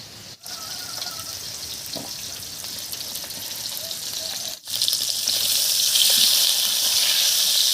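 Snakehead fish (shol) frying in hot oil in a home kitchen, a steady broadband sizzle that holds throughout and grows louder and brighter toward the end, with a couple of brief dips and no talk.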